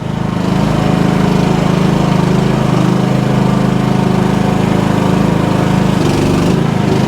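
A tractor engine runs steadily and loudly up close at a concrete pad grading site, a constant droning rumble with a slight shift in tone near the end.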